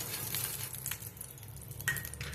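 Oil heating on a tawa before chilla batter goes on gives a steady, soft sizzle with a few faint clinks, close by and without talk.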